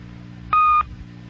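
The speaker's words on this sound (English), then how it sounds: "In a few seconds from now, you'll hear a beep. At that time, start to talk to leave the message." An answering machine beep on a radio show, a single steady electronic tone lasting about a third of a second, loud and clean over a faint background hum.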